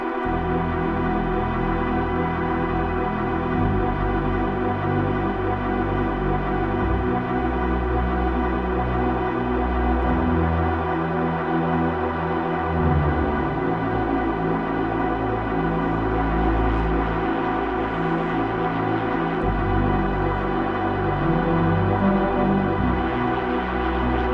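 Dense, sustained layers from a UDO Audio Super 8 synthesizer with frozen delay wash together in a thick, unbroken drone, with low notes shifting underneath a frozen, reverberant haze.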